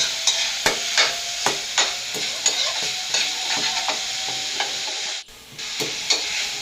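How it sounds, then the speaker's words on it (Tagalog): Chicken gizzards being stirred in a hot pan for adobo, a spoon striking and scraping the pan in regular knocks about once every half second over a steady sizzle, close and clear, no talking. "Ngayon halo-haloin muna natin ito guys hanggang totally nag-iba ng kulay ng balon-balunan"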